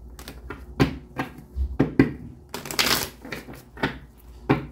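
A deck of tarot cards being shuffled gives quick, crisp riffling bursts, about ten close-up flurries of papery flicks and slaps in an uneven rhythm, with no talking.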